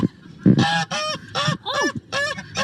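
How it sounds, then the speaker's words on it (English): Farm goose honking loudly in a quick series of about six harsh, nasal calls, close by. "It's a goose!"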